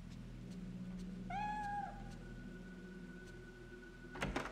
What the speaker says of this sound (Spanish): ya apareció el gato.